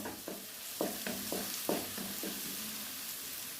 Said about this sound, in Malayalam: അതുവരെ നമുക്കിതൊന്ന് വഴറ്റിയെടുക്കാം ഒരു ഇടത്തരം സവാള ഉള്ളിയാണ് കേട്ടോ ഞാൻ എടുത്തിരിക്കുന്നത്